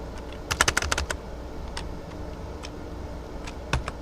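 Computer keyboard keys tapped while typing code, with a quick cluster of clicks early on, then sparse single keystrokes, close and moderately quiet over a faint room hum.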